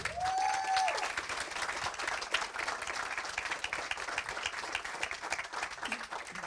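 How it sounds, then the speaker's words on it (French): A seated audience at an esports panel discussion applauds the arriving speakers, giving steady, even clapping that lasts several seconds at a moderate level with a faint background tone. "Sous vos applaudissements."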